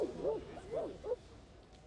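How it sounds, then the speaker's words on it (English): Dogs bark in the distance in the video game Reverse 1999, giving a few short, soft yipping barks in quick succession that fade into quiet. "Pickles hears the barking of dogs in the distance"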